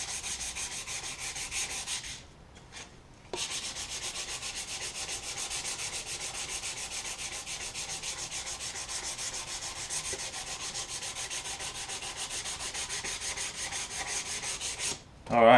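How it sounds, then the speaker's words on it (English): A handmade fishing bobber is sanded to smooth out grinding-wheel defects, a steady close rasping rub that runs almost continuously, broken by a brief pause early on and ending with a short knock. "once you get it sanded to where you want"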